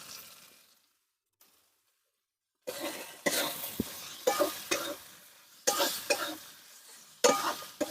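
Ground spices, turmeric, coriander and cumin, stirred and fried in a pan, heard as close scraping stirs in irregular bursts over a faint sizzle after a brief quiet start.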